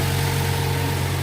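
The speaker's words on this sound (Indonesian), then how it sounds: "Mesinnya halus banget Mas Bos." Car engine idling smoothly and steadily at close range, a constant low hum with no talk over it, on a used Indonesian dealer lot holding an Innova, CR-V, Jazz RS, Biante, City and Xpander.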